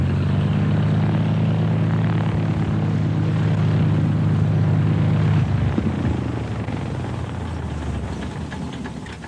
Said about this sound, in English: David Weston lands his aircraft among a herd of wildebeest to make one of the tests